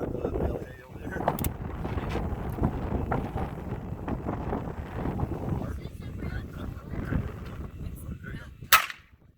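A single sharp pistol gunshot cracks near the end at an outdoor shooting spot with hay bales, preceded by wind noise and people talking.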